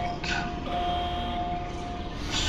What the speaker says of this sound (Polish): Syrena alarmu?